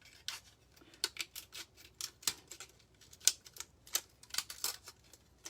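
Metal snips cutting the rim from an aluminum cookie sheet, a quiet, close run of crisp irregular snips and clicks, each cut short and sharp with small gaps between them.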